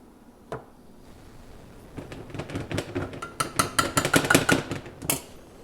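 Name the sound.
placing a pan on the stove and handling butter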